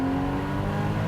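Porsche Boxster Spyder engine, a loud close steady rev with a rich droning tone held for about a second.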